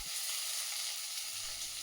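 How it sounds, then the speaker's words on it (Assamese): Onions sizzle steadily in hot oil in a pan for a local chicken curry with spices, a close, continuous crackling fry with no talk. "আৰু পিঁয়াজখিনি শ্ল' ফ্লেমতে মই ভাজিম"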